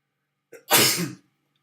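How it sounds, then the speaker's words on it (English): A man sneezes once, close to the mic: a short inhaled catch followed by a sharp, breathy burst that trails off in under a second, surrounded by silence. "I'm going to sneeze here in a second."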